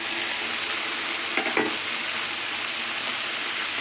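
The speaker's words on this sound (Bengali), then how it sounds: "মাছের মাথা বেগুন দিয়ে সব কিছু দিয়ে কষিয়ে নেব" Fish head and eggplant stir-fried together in a pan, giving a steady, dense sizzle throughout with a brief scrape of stirring near the middle.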